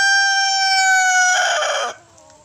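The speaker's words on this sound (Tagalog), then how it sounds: "Ito, kakaibang manok." A chicken gives a loud, drawn-out, tonal call up close, breaking into a raspy squawk before trailing off.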